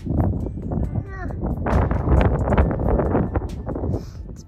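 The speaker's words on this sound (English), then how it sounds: "It's been windy today." Steady wind roars across an Appalachian Trail ridge near Skyline Drive in Virginia. The dense rushing noise hits the microphone continuously, while a hiker's voice comes through faintly underneath.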